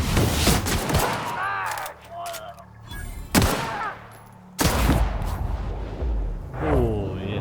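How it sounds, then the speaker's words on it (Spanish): Gunfire in The Outer Worlds video game: several sharp, loud shots with booming tails, spaced across the span, with someone talking between them. "ese último disparo estuvo excelente"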